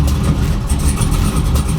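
An F-body car with a high-idle fault settles into a steady, loud idle after being shifted into drive, its engine rumbling evenly throughout.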